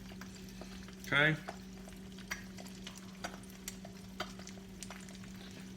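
Faint frying with scattered pops and crackles over a steady hum; a person says a brief word early on.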